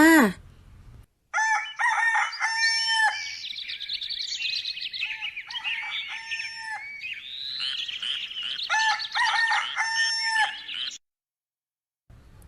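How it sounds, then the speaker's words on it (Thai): A rooster crows in long, clear calls that rise and fall over several seconds. The calls are close and loud, with no other sounds around them. "เจ้าไก่ตัวผู้นั่นเอง ขันอยู่ทุกวัน"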